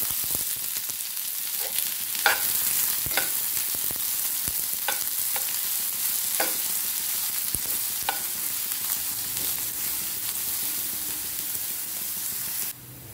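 Finely chopped onions, four medium ones, fry in hot oil in a Goan kitchen, giving a steady bright sizzle throughout with a few sharp crackles and spatters, close and fairly loud, with no talking.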